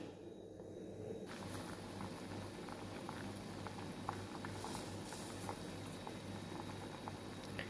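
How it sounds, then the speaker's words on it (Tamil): A pot of thuthuvalai leaf soup boils vigorously and steadily, a dense bubbling patter with small pops, close and continuous throughout. "இதுமாதிரி நல்லா கொதிக்கணும்."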